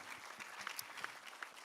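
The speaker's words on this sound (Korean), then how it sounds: "다시 한번 박수 한번 합시다." A church congregation at an early-morning prayer service applauds, a dense and even patter of many hands clapping together that continues through the whole short stretch.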